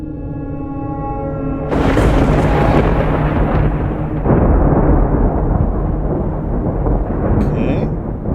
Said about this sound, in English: I like the stormy atmosphere.